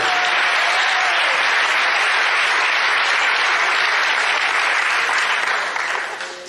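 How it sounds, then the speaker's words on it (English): A comedy club crowd in New York applauds loudly and steadily, a dense wash of clapping that holds for several seconds before tapering off at the end. "Non-smokers, by round of applause."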